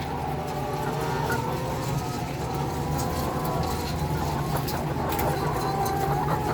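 A large flock of red organic chickens at a poultry farm clucks continuously, with many overlapping calls near and far over a steady low hum and occasional sharp clicks.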